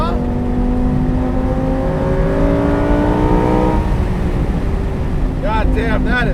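Lamborghini Performante Spyder, naturally aspirated, pulling hard through the gears with a loud, rising engine wail that climbs steadily, then a shift and more revving, with a voice talking over the engine.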